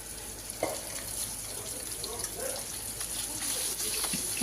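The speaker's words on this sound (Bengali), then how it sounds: "তারপরে আমি বোয়াল মাছটা ছেড়ে দিলাম, লাল লাল করে বোয়াল মাছটা ভেজে নেব" Boal fish frying in hot oil in a kadai, a steady low sizzle and crackle running throughout with a few small pops and spatters, fairly quiet and unbroken.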